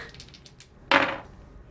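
Attack dice for a HeroQuest board game tumble onto the table in one short, crisp clatter, preceded by a few faint taps.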